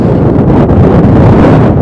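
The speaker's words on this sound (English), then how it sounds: "windy, can a big old gust of wind" Loud, buffeting wind gust pounds the microphone at an outdoor evening sports broadcast, a continuous roaring rumble that fills the entire stretch with no break.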